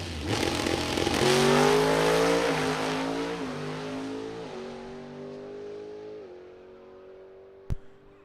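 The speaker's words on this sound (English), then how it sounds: "So Dennis Furcus, final adjustments being made to the NHRA legal Mountain Motor Pro Stock entry" An NHRA Mountain Motor Pro Stock drag car with an 820-cubic-inch engine makes a quarter-mile run at a drag strip, a loud roaring launch that climbs through several gear shifts and fades into the distance.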